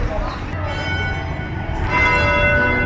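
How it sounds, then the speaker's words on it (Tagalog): Church bells of Manila Cathedral ring out steadily, their sustained tones layered over street and crowd noise, with the sound swelling a little louder toward the end. "Tumutunog yung kampana"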